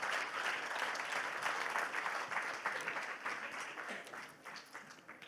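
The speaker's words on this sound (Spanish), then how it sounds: "dale un aplauso fuerte al Señor" Church congregation applauding during a Spanish-language Christian sermon, a dense, steady wash of many hands clapping that gradually thins and softens toward the end, with no talk over it.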